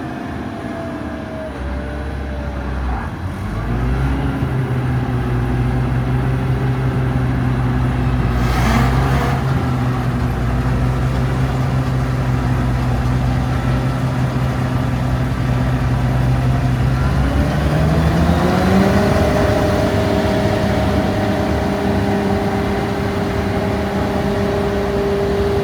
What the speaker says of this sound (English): So I'll put a thresher in gear now.